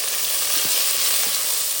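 Tomato, coconut and chilli fry in a pan for a Mangalorean kajipu, giving a steady, close, loud sizzle with a few faint stirring scrapes and no talk.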